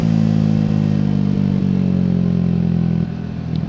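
A 2024 Triumph Speed 400 motorcycle holds a loud, steady engine drone while being ridden hard on the road and overtaking, the note easing slightly near the end with no talk.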